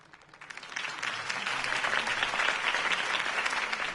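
A crowd applauds Harvey Dent's campaign speech in a Batman video game, a dense steady wash of clapping that swells in after a quiet start and holds at a moderate level, with no voices over it.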